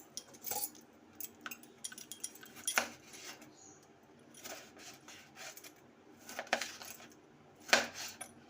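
Metal kadhai set down on a home kitchen stove, with a few sharp clanks and clinks of metal cookware scattered through otherwise quiet room tone.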